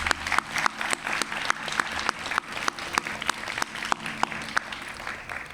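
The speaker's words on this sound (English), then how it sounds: "Let's start by dedicating a round of applause for each of our boys and girls." A graduation crowd claps steadily for the students, a dense even patter of many hands with some sharper individual claps standing out, continuing without pause.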